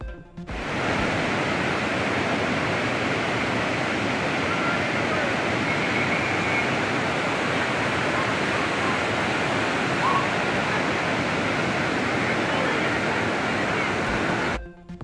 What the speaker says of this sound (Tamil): திருமூர்த்தி மலை பஞ்சலிங்க அருவியில் வெள்ளப்பெருக்கு